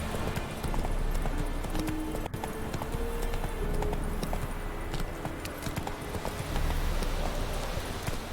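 Roach, a horse in The Witcher 3, gallops with steady, rapid clip-clop hoofbeats throughout, close and continuous over ambient game sound.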